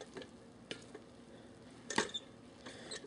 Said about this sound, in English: you want to take your spoon and just stir it on in